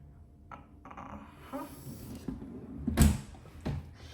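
A drawer of hair products in an apartment is handled, with soft scrapes and rustling of items followed by a sharp wooden knock as it slides shut and a smaller thud after, close and fairly quiet.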